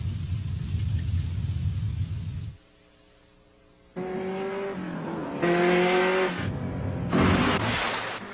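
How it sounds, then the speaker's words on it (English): A Porsche 928 S4 engine rumbles loudly, cuts to near silence, then returns with strong revving that rises and steps up through gears, ending in a bright, high-pitched acceleration. "That, Charles, is my new Porsche 928 S4"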